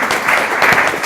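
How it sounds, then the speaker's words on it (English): Loud, close applause from a meetup crowd greeting speakers coming up for a panel on blockchain and fintech, a brief, dense burst of many hands clapping together. "Let's give them all a round of applause again."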